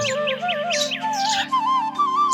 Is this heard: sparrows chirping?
yes